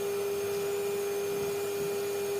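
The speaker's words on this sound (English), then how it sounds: "Quick hoover down." Indoors in a cottage, a vacuum cleaner drones at a constant level, a continuous motor whine with a steady hum and no change in pitch, close up and with no talking.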